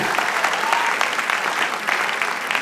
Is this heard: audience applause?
yes